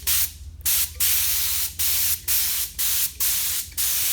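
A paint spray gun hisses in repeated bursts, about seven short passes separated by brief pauses, loud and close over a low motor hum.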